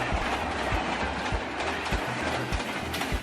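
An Indian Railways Rajdhani express, a fully air-conditioned fast train, runs along the tracks with a steady rumble and rhythmic clickety-clack of wheels over rail joints, fairly faint and continuous throughout.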